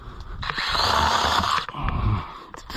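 Troozy 6-inch cordless handheld chainsaw cutting through a pine bush, a loud close motor whine rising as it bites into the wood, easing briefly, then revving again before it stops.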